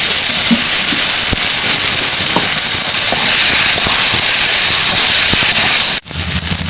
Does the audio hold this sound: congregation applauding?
no